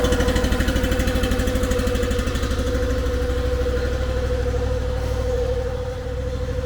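The engine of a Wolfe Ridge 22 RS wood splitter idles as it warms up, a steady, close, throbbing drone that holds evenly throughout with no other sounds.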